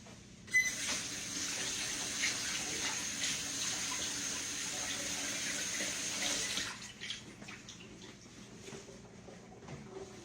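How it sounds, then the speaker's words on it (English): Running tap water pours steadily into a sink as hands are washed, a close hissing splash for several seconds before the flow shuts off, leaving faint drips and handling noise. "Let me wash my hands."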